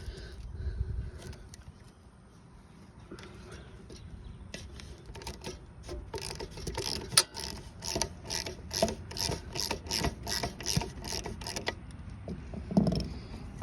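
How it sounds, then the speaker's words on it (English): Socket ratchet loosening a bolt on a Briggs & Stratton lawn mower carburetor, a quick run of close, clicking pawl strokes in a regular rhythm after quieter handling noise, with no talk over it. "you basically just want to use your socket or your tool as long as you can until it comes completely off"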